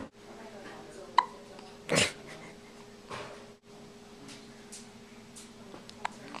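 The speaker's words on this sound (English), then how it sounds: "You got the hiccups?" A young girl's hiccups, a sharp burst near two seconds among a few smaller catches and breaths, close and fairly quiet over a low steady hum.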